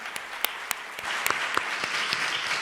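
Audience applause at a women's leadership conference panel, a short burst of many people clapping, with a few louder distinct claps near the start and the sound holding steady to the end.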